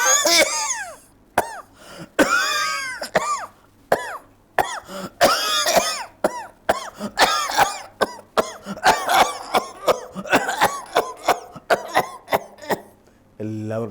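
A performer imitates a train engine driver's cough with his voice, a long run of repeated hacking coughs and throat clearing in irregular bursts, close and loud with short pauses between.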